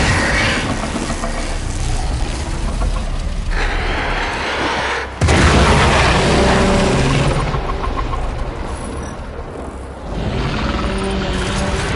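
A Warframe explosion: one sharp boom cuts through a dense, roaring wash of game noise. Loud, rumbling ambience fills the time before and after it.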